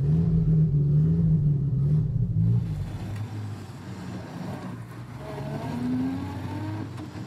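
A Soviet GAZ-12 ZIM sedan engine running with a low steady idle rumble, loud and close at first, then settling into a softer, rougher hum with a faint rising whine, with no talk over it.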